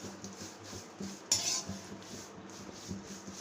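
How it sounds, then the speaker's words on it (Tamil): Curry leaves dry-roasting in a pan on the stove, with a sharp clink of a spoon against the metal pan partway through, then quiet scraping and stirring. No speech. "இப்போ ஸ்டவ்வை பற்ற வச்சு இந்த பச்சை கலர் மாறாத அளவுக்கு வறுக்கணும்."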